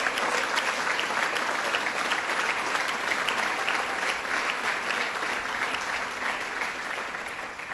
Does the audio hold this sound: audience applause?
yes